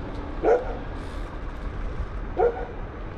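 Two separate dog barks in Liznjan, Croatia, a couple of seconds apart, heard at a distance over a steady low rumble.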